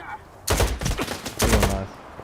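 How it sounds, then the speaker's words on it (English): Two bursts of gunfire from a headshot in S.T.A.L.K.E.R. 2, loud and close, each a sharp crack with a short rattling tail, separated by a brief gap. "That headshot sound?"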